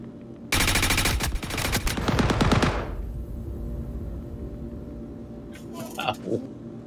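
A semi-auto rifle in the shooter game Star Marine fires a fast, loud string of shots for about two seconds, then a fading tail, a steady background hum and a few faint later clicks.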